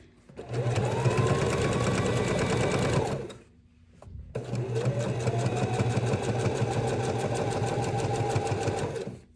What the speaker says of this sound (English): we're gonna just start sewing